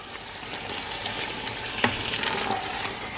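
Spinach stirred into a kofta curry in a pan, a steady soft sizzle with scraping and stirring sounds and one sharper knock midway, close and continuous with no talking.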